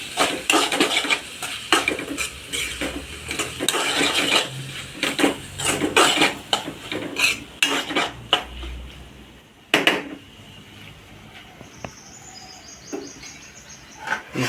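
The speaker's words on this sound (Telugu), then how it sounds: "తిప్పుకుంటున్నాను మొత్తం కలిసేలా" A spoon scrapes and clinks against a pan as Millymaker masala curry is stirred, producing irregular metallic knocks and scraping strokes that grow sparse toward the end. Faint background sounds accompany them.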